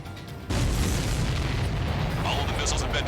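Missiles exploding in a jet combat video game, a sudden deep boom opening into a sustained loud roaring rumble that stays dense for several seconds.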